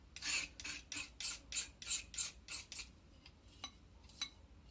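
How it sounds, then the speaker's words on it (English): Leftover paint is scraped from a palette into a small container, heard as a quick series of close, rasping scrapes in a steady rhythm that slows and thins into a few sparse strokes. "I'm going to scrape all my paint that I have left."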